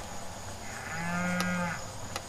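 A single cow on a working cattle farm gives a clear, drawn-out moo lasting under a second, heard alone over a quiet outdoor background.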